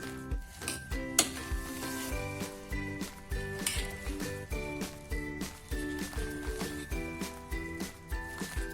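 Rasam with tamarind juice and coriander is stirred in a pan, giving steady clinks and scrapes of a spoon against metal over a soft sizzle, repeating at an even pace, close and fairly quiet.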